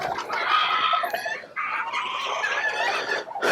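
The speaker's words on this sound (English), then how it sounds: "this is our little rooster here." Bantam chickens, a little rooster and a hen, clucking and squawking close by in a run, a busy run of bright, raspy calls with short pauses and no talking.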